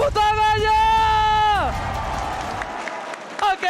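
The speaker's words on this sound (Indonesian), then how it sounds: "MPL Arena minta tepuk tangannya!" An esports crowd at MPL Arena, gathered for an MPL Season 10 Mobile Legends match between RRQ and Alter Ego, applauds and cheers in a steady, distant roar after an announcer's long, drawn-out shout, then a voice cuts in at the end.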